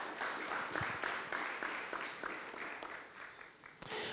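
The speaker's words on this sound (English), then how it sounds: "A round of applause for Sitawa Namwalie." An audience applauds a panel speaker with a steady, dense patter of clapping from a moderately sized crowd that holds for several seconds, with no speech over it.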